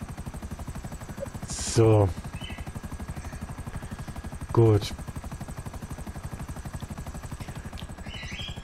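Helicopter in the video game GTA V Online, a steady rotor drone running throughout with two short louder bursts, while people talk over it.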